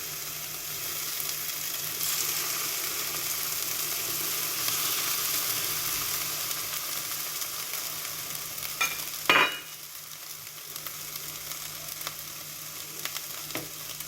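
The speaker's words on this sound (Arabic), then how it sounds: "في المقله غندير شويه زيت الزيتون، نحط المطيشه." Tomato fries in olive oil in a pan, a steady, fairly loud hiss and sizzle with a brief sharp clatter partway through and no speech.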